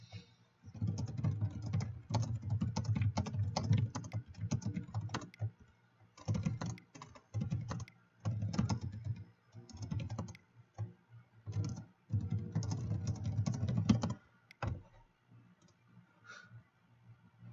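Quick bursts of typing on a computer keyboard during an online Magic: The Gathering match, soft close clicks clattering in short runs separated by brief pauses, fairly quiet and with no talking.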